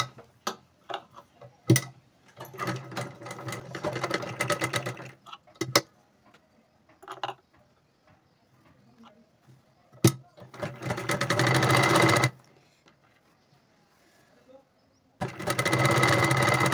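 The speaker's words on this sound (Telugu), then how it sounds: "ఒరిజినల్ పీస్ పైన మనం చుట్టూ కుట్టుకోవాలి" An electric sewing machine stitches lining onto a sleeve in short bursts of rapid mechanical whirring, separated by quiet pauses and sharp clicks, with someone speaking between runs.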